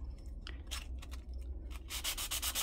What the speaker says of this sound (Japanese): いっぱい磨いていただきます。